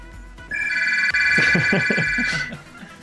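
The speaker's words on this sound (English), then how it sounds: "our phone's ringing" A telephone rings close by with a sustained electronic trill lasting about two seconds, a faint voice briefly audible beneath it.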